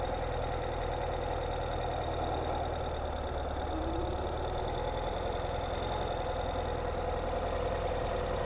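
A 2022 Ural Gear Up sidecar motorcycle engine runs steadily at low throttle, a continuous close rumble with an even throbbing texture and no talk.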